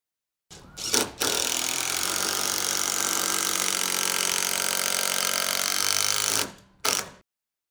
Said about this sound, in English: We're going to bury it until the head is completely in the wood and it's nice and flush